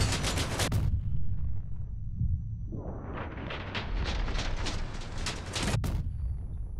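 Autocannons fire in a video game, with rapid close bursts of heavy shots at the start and again later, separated by a brief lull, loud and booming.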